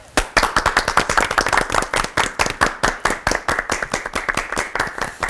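A church audience at a Christian TV program claps to welcome two pastors for their sermon. Loud, close, rhythmic clapping in near-unison beats steadily, about four claps per second, with almost no talk.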